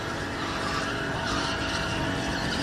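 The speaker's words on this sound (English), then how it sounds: "All the way on the throttle coming off the corners." A race car accelerating hard out of corners on a track, tires skidding and squealing over a loud steady engine roar that stays close throughout.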